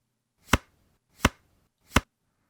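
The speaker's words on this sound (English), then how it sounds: "Card Slide 1." Card slide effects from a casino game sound pack: three separate sharp, short swishes of a card sliding across a surface, evenly spaced and isolated in silence.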